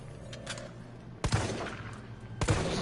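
Handgun shots in Resident Evil 3 Remake, two sharp, loud reports about a second apart, each followed by a brief ringing tail over a low game-ambience hum.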